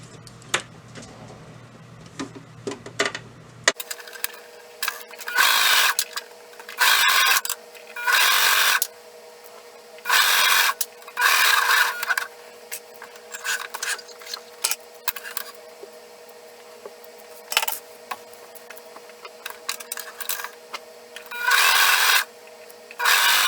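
A serger stitches down the turned-up hems of a pair of Cadence tights, its motor whirring in repeated bursts of a second or two separated by short quiet gaps, close and steady with no talking.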